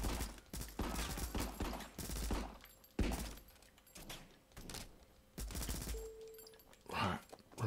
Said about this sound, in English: But these guys are shooting each other.